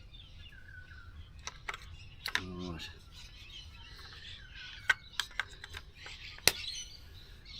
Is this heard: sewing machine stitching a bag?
no